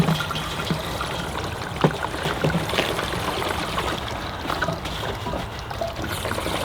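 Fuel pouring from a gas can spout into a straight horizontal filler hole, a continuous gurgling liquid rush with small glugs, close and steady throughout.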